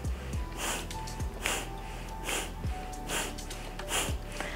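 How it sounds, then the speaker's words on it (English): Forceful nasal exhales from a breath of fire breathing exercise, sharp snorting puffs repeated in a steady rhythm, about one every second, close and fairly loud with no talking. "you are going to be giving a nice exhale out through the nose"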